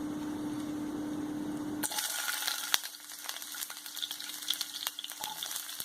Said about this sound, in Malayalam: അപ്പോൾ നമുക്കിനി ഇതിനകത്ത് ഉള്ളി ഇട്ട് കൊടുക്കാം.